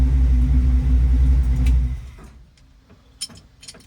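1972 Chevrolet C10 V8 idling with a sealed-up carburetor and no choke: loud low rumbling idle for about two seconds, then it cuts off, leaving faint ticks and clicks.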